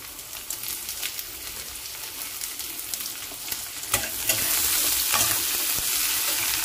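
Potatoes and chopped onions fry together in a pan with a steady close sizzle and crackle, occasional stirring scrapes, growing louder and denser toward the end; no talking.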